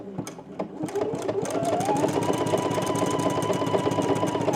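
A sewing machine stitches long buttonholes in a button-up shirt, starting with a few separate clacks before settling into a fast, steady mechanical whirring that stays close and constant.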